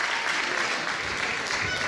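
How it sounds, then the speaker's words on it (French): An audience applauding at the 2017 Miss Poitou-Charentes beauty pageant election, a steady dense wash of clapping with no pauses across the whole short stretch. "Et applaudissements également pour notre mannequin chanceux, Mathieu, qu'on applaudit"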